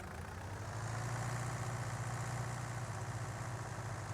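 A small tractor engine of around 200 horsepower idles on a farm in Skrzyszów, a steady low rumble that holds evenly and close for the whole stretch with no talk.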